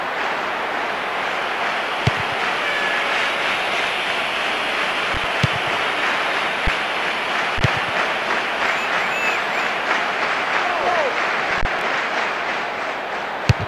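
A stadium crowd in the eFootball 2023 football game roars and applauds continuously, a dense, steady wash of cheering with occasional sharper claps, and no commentary over it.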